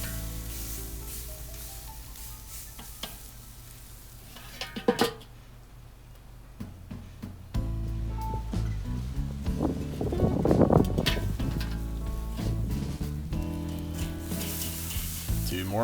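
A T-bone steak sizzles on a Weber charcoal grill with a soft, steady crackle. Scraping and handling noises break in partway through, and the sizzle grows louder and busier toward the end.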